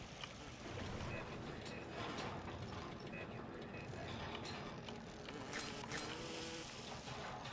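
Machinery in the underwater city of Bioshock 2's Minerva's Den DLC, a steady clattering, ratcheting mechanical churn with gear-like ticks running throughout at moderate level.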